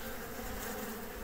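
Honey bees buzz at the entrance of a busy hive, a dense continuous drone of many insects heard close up at a soft level.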